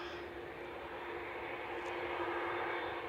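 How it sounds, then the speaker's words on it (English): A Qatar Airways jet departing Manchester Airport for Doha gives a steady, broad roar at some distance that swells slightly as it continues, with no voices over it. "So, Qatar are about to depart back to Doha."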